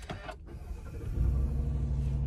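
A driver's much-loved car: a power window whirs briefly at the start, then the engine catches and settles into a steady low idle, close by with no voices.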